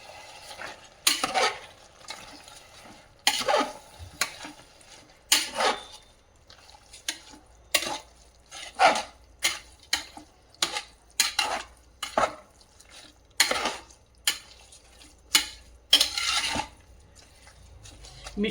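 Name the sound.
stirring chicken biryani mixture with jeera rice in pot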